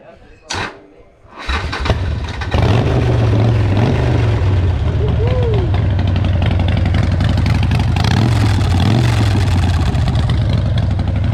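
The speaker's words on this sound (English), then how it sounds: "What I noticed though was just the absolute note on this motorcycle." A Harley-Davidson Sportster motorcycle engine starts with a sputter, then rumbles at a loud idle, with a few revs swelling and falling back while a person talks over it.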